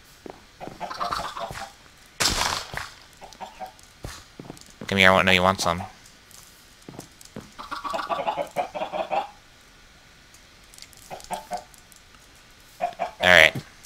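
Minecraft chickens clucking in short bursts between stretches of a person talking, with a few footstep-like clicks nearby.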